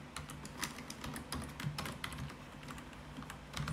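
Soft, quick clicking of keys on a computer keyboard as a URL is typed, in a rapid irregular patter heard quietly up close.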